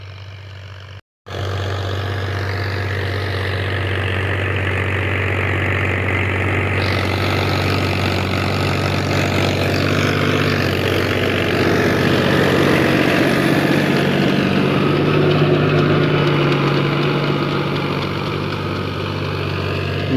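A 2019 New Holland tractor with a new rotavator mounted behind it runs steadily close by, a deep, continuous engine drone with strong low rumble after a brief silent break at the start.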